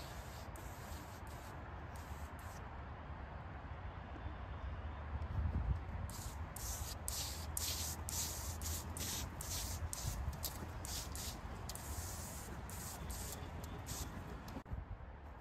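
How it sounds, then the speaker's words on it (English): A steady hiss of spraying kaolin clay onto an apple tree runs through most of the passage, broken into repeated pulses, with low rumble and faint background noise underneath. "So here I got some apple. I'm gonna spray them as well."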